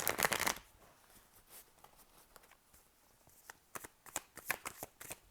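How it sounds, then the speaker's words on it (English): Light Seers tarot cards shuffled by hand, a dense riffling burst at the start, then quieter sparse handling and a flurry of sharp flicks and taps near the end. "from the Light Seers Tarot, let's pull some tarot out here to really get the storyline"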